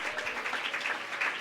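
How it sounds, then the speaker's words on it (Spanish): A church congregation applauds in praise, with dense, steady clapping at a moderate distance throughout. "Ese aplauso, esa alabanza, esa exaltación es para Jesucristo esta mañana."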